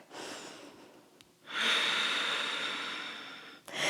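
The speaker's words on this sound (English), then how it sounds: "1 more deep breath." A deep breath during a yoga flow, heard close and clear as a short inhale followed by a longer, steady exhale, alone with no talking.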